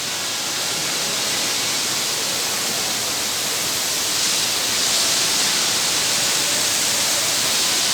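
An indoor waterfall on the second floor of a newly reopened shopping mall gives a steady, broad rushing hiss of falling water. It stays even and loud throughout, with no voices.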